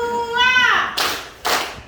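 Children in a classroom clapping game give two sharp, loud claps about half a second apart, just after a voice speaks.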